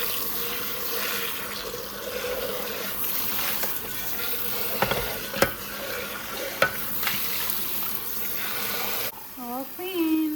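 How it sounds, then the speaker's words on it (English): Running water from a kitchen tap rinses dishes in a steady broadband wash, with a few clinks and knocks, before the flow stops and a brief voice ends the clip. "All I have to do is rinse."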